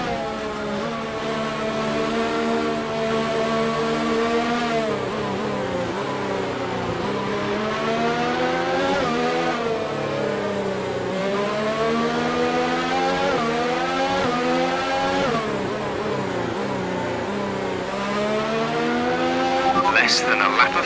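A Williams F1 race car engine in the video game F1 2019 drones steadily at high revs, with its pitch rising and falling through gear changes across the run and a brief squeal near the end, and a voice talks over it.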